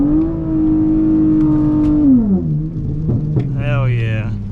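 Tuned V6 Dodge Charger revving hard while sliding sideways, a loud sustained engine note that drops sharply and then climbs again with rising whine, close and prominent, with a voice briefly audible.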